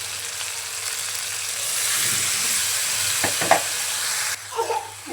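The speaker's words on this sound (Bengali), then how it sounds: "এখন আমি অ্যাড করে দেবো পানি" A steady hiss of chicken frying in a hot pan fills the scene, with brief clinks of stirring, and the sizzle changes near the end as water is added.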